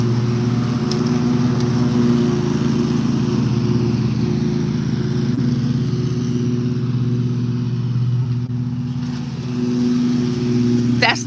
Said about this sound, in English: That's the lawnmower that he pulled me out of the